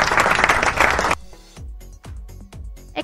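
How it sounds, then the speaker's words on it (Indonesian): Several sharp hand claps ring out one after another in an irregular rhythm, close and crisp in a quiet room, after a burst of dense noise; no one speaks. "Tepuk tangan."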